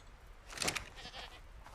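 A sheep in the video game ARK gives a single short bleat near the middle, moderately loud against faint background noise.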